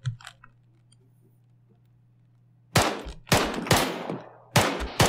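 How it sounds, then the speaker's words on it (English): Gunfire in the military shooter Arma 3: after a near-silent stretch with a faint hum, four loud, sharp shots ring out in quick succession, each trailing a brief echo. "When in doubt, just fucking fire."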